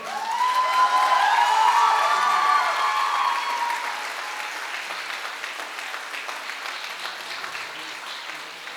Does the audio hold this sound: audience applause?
yes